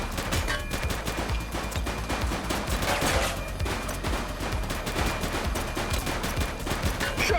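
Bursts of rapid gunfire in the police video game The Precinct, dense overlapping automatic shots crackling steadily throughout, loud and sustained with no pause.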